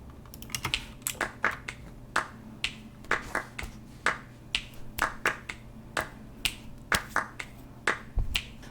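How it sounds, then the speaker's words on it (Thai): Crisp finger snaps keep a steady beat through a Thai pop song, repeating in regular pairs over soft backing music with no voices. "มีเสียงดีดนิ้วเข้ามา เสียงแครบแครบเข้ามาเสียงดีดนิ้วเป็นไงลองฟัง"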